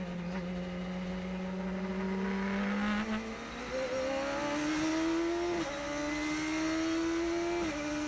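Radical Cup race cars accelerate hard on a race restart at Sonoma, a loud engine note climbing steadily in pitch with shifts between gears and wet spray noise around it.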